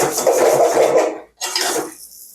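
Spiced food with ghee stirred in a pan on very low heat, two bursts of scraping and rubbing against the pan, the first longer, split by a brief pause, close and fairly loud.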